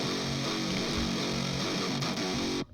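Odin 3 guitar plugin on its rhythm preset, a dense sustained electric guitar-like tone with strong harmonics, playing steadily and loudly for a few seconds before cutting off abruptly near the end.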